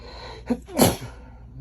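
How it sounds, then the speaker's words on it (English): One sharp sneeze follows a quick inhale, close and loud, in an otherwise quiet setting. "Sorry, I sneezed."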